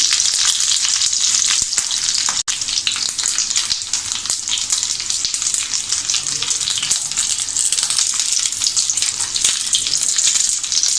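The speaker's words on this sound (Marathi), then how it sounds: "अशा प्रकारे आपल्याला हे आपल्या फ्राय पॅनमध्ये ठेवायचे आहेत आणि आपल्याला मध्यम गॅसवर एका बाजूने" Stuffed bell peppers fry in a frying pan over medium heat, giving a loud, steady, dense sizzle that runs without a break, with one sharp click partway through.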